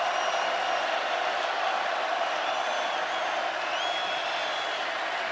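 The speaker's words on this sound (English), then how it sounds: "Crowd into it for their defense right now." A stadium crowd at an Ole Miss at LSU college football game roars steadily for the defense on third down, a dense, sustained wash of cheering with no breaks.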